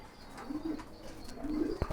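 Pigeons coo in a low, soft murmur at a farm, a brief stretch of overlapping calls with faint background noise.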